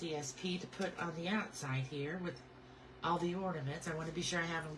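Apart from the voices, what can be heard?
None of the usual background noises is heard.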